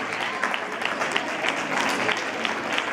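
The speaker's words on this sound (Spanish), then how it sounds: "Un fuerte aplauso, es la ganadora." A live audience applauds an award winner at a prize ceremony, with dense, steady clapping from a moderately sized crowd that lasts the whole moment, and faint voices mixed in.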